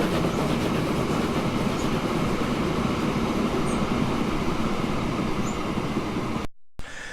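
A train running on tracks in the game Transport Fever, a steady loud rumble with clickety-clack rhythm and faint wheel squeals, cutting out briefly near the end.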